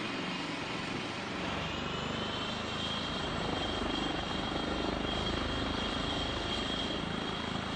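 An HPG-135 helicopter in Microsoft Flight Simulator spools its engine up toward full power, a steady turbine whine and rotor drone held at moderate level with no talking.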